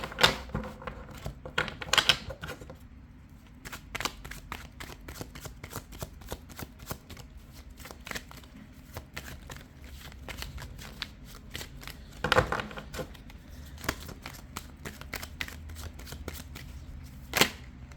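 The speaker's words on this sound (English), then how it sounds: "Let's pull a few more cards." Tarot cards are shuffled and pulled at close range, making a long run of rapid, crisp card flicks and riffles in irregular bursts, with brief louder shuffles along the way.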